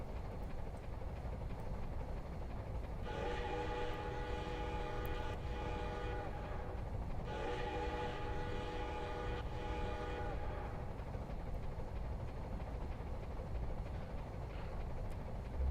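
Locomotive horn sounding twice in long sustained blasts, each about three seconds, over a steady rumbling engine and track noise from a Santa Fe train in Train Simulator Classic, with no talking.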